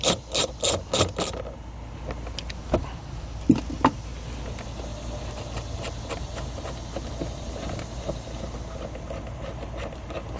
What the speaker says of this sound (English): Using my ratchet, I'm going to go ahead and loosen the nut here.